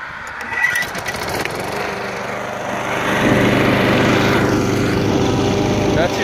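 A 23-year-old lawn mower engine pull-started by hand, catching after a brief rattle of the recoil cord and settling into a steady, loud, close running drone that grows slightly louder as it goes.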